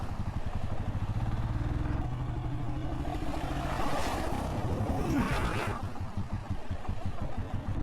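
Adventure motorcycle engine churning through a deep mud hole on the Chattahoochee backcountry route, a steady loud rumble with revving and splashing as the bike nearly bogs down, no talk.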